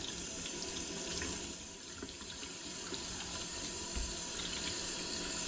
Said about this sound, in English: you're gonna go ahead and put some cold water and rinse it off.